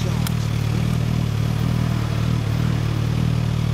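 A 2005 Yamaha YZF-R1 sport bike fitted with a BEET exhaust muffler runs steadily at idle, heard close and loud with a deep continuous rumble and mechanical clatter.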